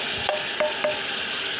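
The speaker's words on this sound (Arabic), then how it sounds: "نقلوا البصله تاعنا حتى تولي ترونسبارون، شفافه" Onions fry in a pan as the base of a spicy Msila-style chakhchoukha. A soft, continuous sizzle runs beneath three quick stirring scrapes spaced a fraction of a second apart.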